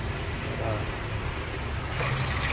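Tap water running steadily while raw pork is rinsed and scrubbed for adobo, a continuous close gush that brightens near the end, with a voice talking over it.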